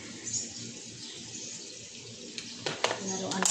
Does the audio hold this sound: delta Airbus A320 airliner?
no